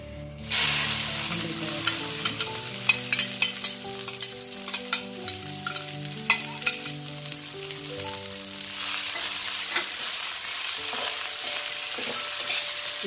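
Cut okra frying in a pan with cumin, steady sizzle with a run of sharp spatula taps and scrapes, while a soft melodic tune plays beneath.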